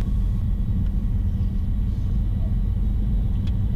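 A twin-engine Cessna taxis clear of runway 33 at Aurora, giving a steady, loud, low engine rumble that holds without a break throughout.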